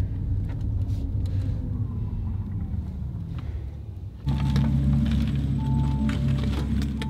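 Inside an Audi RS e-tron GT electric car, a steady low rolling rumble grows suddenly louder and heavier partway through as the car drives onto a weighing scale, with no voices.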